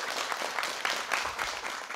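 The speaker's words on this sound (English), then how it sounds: "Round of applause for you." A school spelling-competition audience applauds a correct speller, a steady wash of many hands clapping at moderate loudness for about two seconds with no talk.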